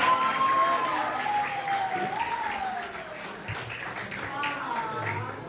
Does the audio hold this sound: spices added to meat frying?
no